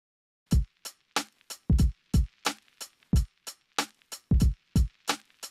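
Boom bap hip-hop drum pattern of punchy kicks and crisp snares on a steady four-beat groove, with tight hi-hat ticks between hits, played alone and clearly.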